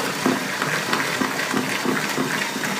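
Banana bread batter with butter and baking soda is stirred in a bowl, giving a steady, rhythmic wet scraping and sloshing that continues at close range without speech.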